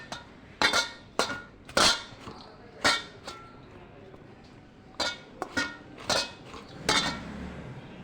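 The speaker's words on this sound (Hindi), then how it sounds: "चावल को खूब अच्छे से मिक्स करेंगे" A utensil stirs rice and green food colour in a metal pot for zarda, making a dozen or so sharp clinks and scrapes in uneven bursts, close by and fairly soft.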